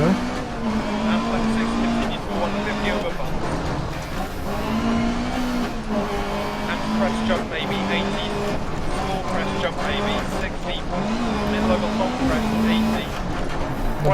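A damaged rally car tears along a stage in Dirt Rally, its engine droning loud and rising and falling in pitch with gear changes, with tyre and gravel noise and someone talking over it.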